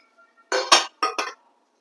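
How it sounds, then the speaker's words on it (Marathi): A metal strainer is set down into an idli cooker pot of steaming water, giving one clanking knock followed by two quick metallic clinks close by, with no talk. "ह्यात आपण ही चाळण ठेवूया"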